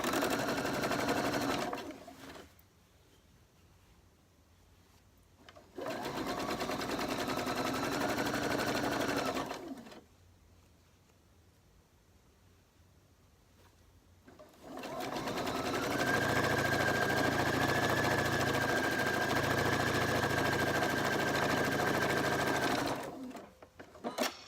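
A sewing machine runs a quarter-inch seam joining quilt pieces cut from charm packs and layer cakes, in three steady bursts of mechanical whirring split by quiet pauses, each run loud and close.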